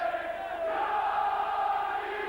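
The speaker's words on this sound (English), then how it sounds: "Saints crowd getting fired up." Home supporters at a St Helens versus Castleford rugby league match roar in a sustained, distant crowd swell, steady and moderately loud throughout with no distinct voices.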